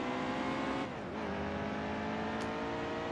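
NASCAR race cars roaring around a road course in the video game NASCAR Heat 2, a loud continuous engine drone with a brief dip and pitch shift as gears change, then steady high revving.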